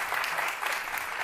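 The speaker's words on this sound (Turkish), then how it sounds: "Efendim ama asıl büyük alkışı Fatma Hanım hak ediyor." Studio audience applause on a Turkish daytime television talk show, a steady dense wash of clapping hands throughout, fairly faint and heard without talk.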